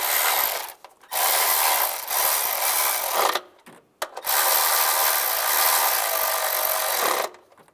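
A ratchet wrench tightens bolts on the engine of a 2007-2013 Chevrolet Silverado 1500 during an oil pressure sender replacement. Two long, steady bursts of close, rapid ratcheting are separated by brief pauses, with no talk.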